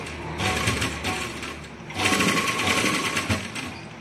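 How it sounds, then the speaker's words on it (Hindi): A sewing machine runs steadily, stitching a straight seam on an umbrella-cut kurti, its whirring motor pausing briefly mid-run before picking up again, loud and close with no talking. "ये हम एक बार सीधी सिलाई लगा लेंगे"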